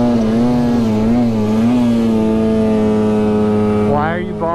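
A snowmobile engine drones steadily at high revs in deep untouched snow, then bogs and sags near the end, with rising pitch sweeps as the throttle changes; close and loud throughout.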